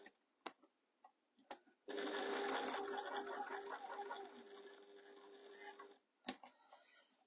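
A straight stitch sewing machine runs in one continuous burst for about four seconds as it stitches around a fabric rectangle. Quiet handling taps and clicks come before and after the run.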